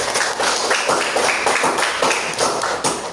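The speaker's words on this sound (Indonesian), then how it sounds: "Beri aplaus dulu untuk kelompok 1" A classroom group of students applauding group 1, a dense, steady patter of many hands clapping close by for about three seconds.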